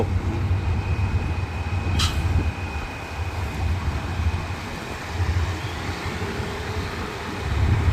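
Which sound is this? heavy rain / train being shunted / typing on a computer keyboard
train being shunted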